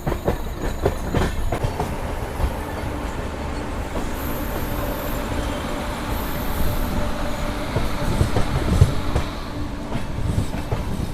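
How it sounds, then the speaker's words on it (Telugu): A Machilipatnam to Bidar superfast express with new coaches pulls into Vijayawada Junction. There is a steady, loud rumble of rolling wagons with faint clickety-clack, and a thin high squeal briefly rises over it. No one speaks. "సో మన ట్రైన్ వచ్చేసి 5 నిమిషాలు లేట్గా వచ్చేసి మనకు విజయవాడ జంక్షన్కి అయితే రీచ్ అయింది"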